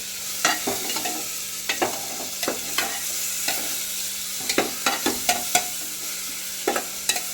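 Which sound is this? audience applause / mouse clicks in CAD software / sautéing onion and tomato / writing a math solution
sautéing onion and tomato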